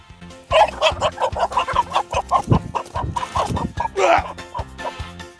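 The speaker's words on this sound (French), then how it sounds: "Comme je disais, c'est un coq." A rooster clucks repeatedly while being caught by hand in a henhouse, loud and close, in quick agitated bursts with a few longer squawks, no talk.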